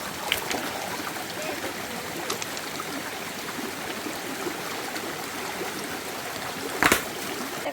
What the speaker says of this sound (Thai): เพื่อให้น้ำไหลมาทางนี้นะ